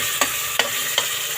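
Mung beans being stirred into a pot of cooking young jackfruit with sardines and coconut milk, three distinct spoon scrapes evenly spaced over a soft continuous simmer, with no voices.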